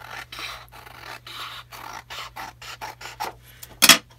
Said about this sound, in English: I think I'm just going to trim just the bottom off here.